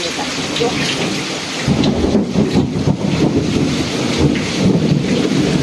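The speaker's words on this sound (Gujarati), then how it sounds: "આયો ભાદરવો વરસાદ" Heavy rain roars steadily while deep thunder rumbles through, swelling louder partway in and staying close and intense.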